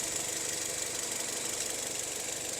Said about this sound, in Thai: สตาร์ทเครื่อง ให้ดูการทำงานเครื่องยนต์ไปด้วยนะครับ